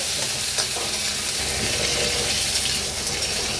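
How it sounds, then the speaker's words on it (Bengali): Potatoes frying in hot turmeric-tinted oil for a desi chicken curry, a steady close sizzle with stirring scrapes running throughout. "আলুগুলো একটু লাল লাল করে ভেজে নেব।"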